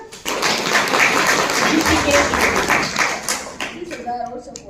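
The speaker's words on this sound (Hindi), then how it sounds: "तालियां तो बजाओ जरा" An audience at a Brahma Kumaris centre celebration in Vikasnagar breaks into clapping for about three seconds, a dense steady wash of hands mixed with murmuring voices, then tapering off as talk resumes.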